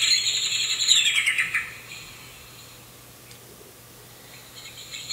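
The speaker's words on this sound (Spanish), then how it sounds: "Estamos escuchando el canto completo de un mirlo." A common blackbird's recorded song opens with a bright run of fluting, sliding whistles that descend and fade within the first two seconds, leaving near silence after.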